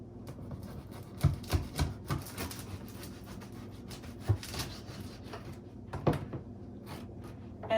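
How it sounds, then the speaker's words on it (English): A knife cuts regular French bread into small cubes, giving a series of quiet crunchy chops and scrapes against a cutting board in an otherwise hushed kitchen. "This is just regular French bread. So just cut about a slice."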